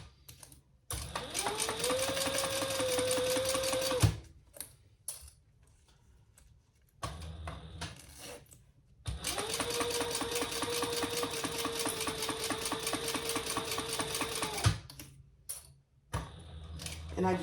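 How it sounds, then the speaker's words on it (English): A sewing machine stitches a zipper panel on a crossbody bag in two long runs of steady, close-up whirring, each about four to six seconds, separated by short pauses with faint handling noise. "And we're going to start sewing there."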